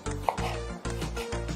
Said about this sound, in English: I'm just chopping a bit of garlic for that oil for the chicken.